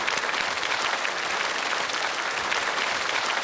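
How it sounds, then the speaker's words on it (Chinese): An audience applauds steadily at a stand-up comedy show, a dense, even wash of many hands clapping with no voices above it. "再次掌声送给他们"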